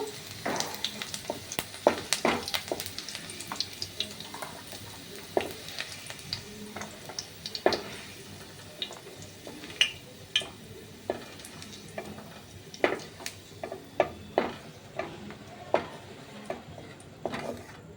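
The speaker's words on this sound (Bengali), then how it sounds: "রসুনগুলো লাল লাল করে ভেজে নেব।" Garlic cloves fry in oil for a Bengali banana flower and prawn mash: a steady, close sizzle with frequent sharp spatula clicks and scrapes against the pan, and no voices.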